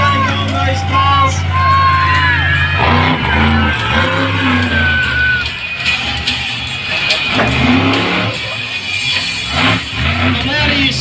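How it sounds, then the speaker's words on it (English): A monster truck engine at an outdoor show revs and roars through rising and falling pitch sweeps, loud and close, mixed with crowd noise and a voice talking over it. "Alright, let's bring out the monster truck."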